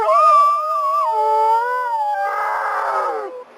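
Wolves at an animal ranch howl loudly and close by, long rising and falling tones layered together, with a rougher overlapping voice joining near the end.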